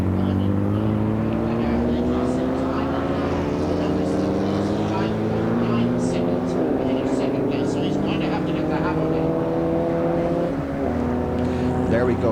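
Formula Vee race cars scream down the straight at Mondello, their engine notes rising in pitch together as they accelerate, loud and continuous, with a commentator talking over the racing.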